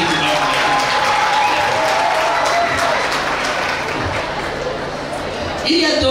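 Loud, dense audience applause fills a ceremony launching a Confucius Classroom at a lake-side lycée, steady for several seconds before easing slightly near the end, with voices faintly mixed in.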